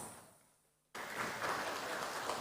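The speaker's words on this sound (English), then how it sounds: "Let's give a round of applause." Audience applause breaks out abruptly after a brief quiet at the opening of the 3rd ISST 2023 science and technology conference, a dense, steady crowd clapping that swells slightly and holds at full strength.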